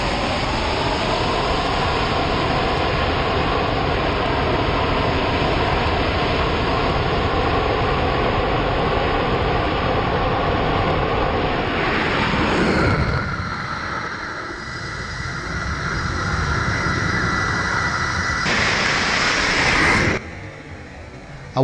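Navy fighter jet on an aircraft carrier deck running up to full power for a catapult launch, a loud continuous engine roar that shifts abruptly partway through as the jet is shot off, followed by further jet noise; no talking.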